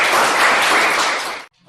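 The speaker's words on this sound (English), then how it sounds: "Huge round of applause." A crowd of audience members applauds at a Toastmasters education session, dense and steady clapping that holds for about a second and a half before cutting off abruptly.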